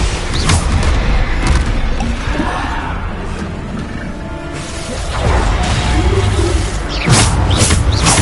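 Bombarda explosion spells cast repeatedly in Hogwarts Legacy, loud booming blasts with crashing debris and whooshes, several bursts in quick succession with a brief lull in the middle before more impacts land.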